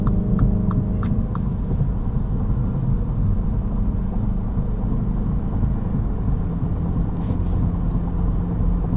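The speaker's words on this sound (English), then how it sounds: "This is the B46 2-liter turbocharged engine mated to the 7-speed dual clutch transmission" MINI with the B46 2-liter turbocharged engine and 7-speed dual clutch transmission cruising on a highway, a steady loud low engine and road rumble that holds evenly throughout with no voices.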